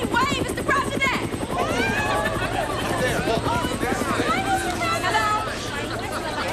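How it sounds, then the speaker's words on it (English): A helicopter's rotor chop and engine drone fill the air, with a babble of excited voices and chatter over it. "It's a helicopter flying over."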